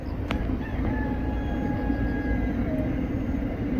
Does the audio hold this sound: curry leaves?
no